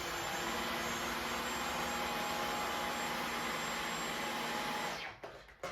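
Dyson V15 Detect cordless vacuum cleaner fitted with its parquet cleaning head, running with a steady, loud whine before cutting off near the end.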